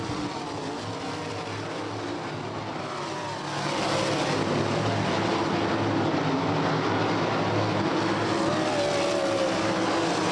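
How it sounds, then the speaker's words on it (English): A race car roars down the straightaway at Bridgeport Motorsports Park, a loud continuous engine drone that swells and holds steady near the microphone, with no talk over it. "Driving car number 46 coming down the straightaway here out of Burlington, Ontario, in the 46 group, number 46, Ryan Conium."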